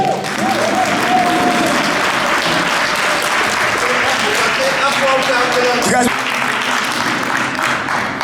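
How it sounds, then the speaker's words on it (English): An audience applauds a local councillor at a neighbourhood watch celebration, with steady, loud clapping filling the whole stretch, some cheering voices mixed in, and a brief louder burst near the end. "So guys, please put rounds of applause together for your councillor."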